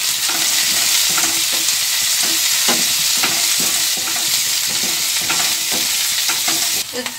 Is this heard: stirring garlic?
yes